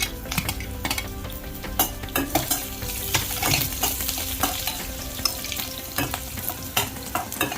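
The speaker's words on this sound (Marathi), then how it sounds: "मंद गॅसवर जरा भाजायचं, कारण ते जास्त भाजलं आणि करपलं तर ते कडू लागू शकतं" Curry spices for a Malvani shark fish curry being dry-roasted in a pan over low heat, a steady close scraping and stirring with repeated sharp spoon knocks against the pan and a faint sizzle underneath, with no speech.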